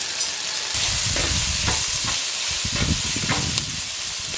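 Onion, ginger, garlic, pepper, fennel and cumin sautéing in oil for a brinjal kuzhambu, giving a loud continuous sizzle broken by regular low thuds and scrapes of a ladle stirring the pan.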